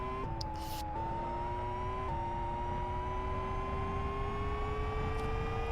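Racing car engine in the sim game Live for Speed holding a steady, continuous drone during an out lap into a hot lap, with the revs climbing slowly, a couple of brief gear-change dips early on, loud and close with no talk.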